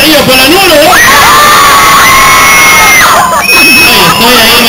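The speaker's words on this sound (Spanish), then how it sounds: "Aplausos, silbido y estrellas para el número" A loud crowd at a dance contest cheers, whoops and whistles for contestant number two, with high sustained whistles rising above continuous shouting and excited voices, close and saturated.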